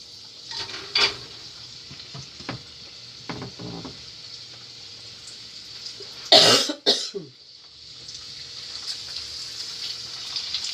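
Spanish beef patties frying in a pan, a faint, steady sizzle in a home kitchen. The sizzle is broken by a few clinks, a loud cough and a throat clearing partway through.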